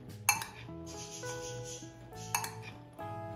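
Spoon clinking and scraping against a bowl while black chana chaat is mixed with chopped tomato, onion and green chilli, with a few sharp metallic taps and soft stirring in between, close and with no voices.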